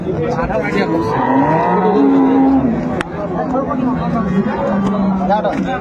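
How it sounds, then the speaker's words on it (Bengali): Cows moo loudly and close at a rural cattle market selling dairy cows and calves, long drawn-out lows over a busy background of people chattering and bargaining. "দুটা গরু"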